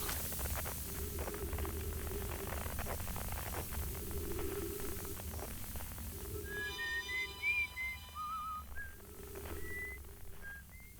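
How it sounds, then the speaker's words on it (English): Someone whistles a short, wavering tune in the video game Outer Wilds, with the melody rising and falling over a steady, hissing ambient hum during the second half. "Who's the one that's whistling?"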